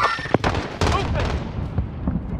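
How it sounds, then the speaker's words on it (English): Gunfire in the Call of Duty Modern Warfare video game, a few sharp shots in quick succession with rumbling booms trailing off, fairly loud with a voice over it. "I'm taking fire!"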